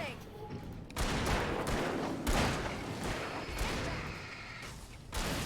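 Gunfire during a night scene in the video game Alan Wake: several loud, sharp blasts with broadband bursts, the first near the one-second mark and more following, over a dense game soundscape with some speech.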